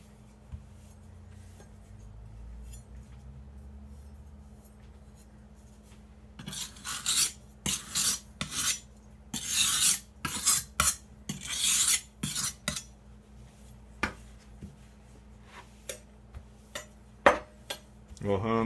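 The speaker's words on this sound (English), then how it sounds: "We'll hone the blade." A kitchen knife blade honed on a steel with light, rasping strokes, a quick irregular series of close scrapes and faint metallic clinks after a quiet start.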